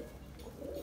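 Pigeons or doves in a breeding coop, a soft low cooing heard close and fairly quiet, continuous over a brief moment with no talk.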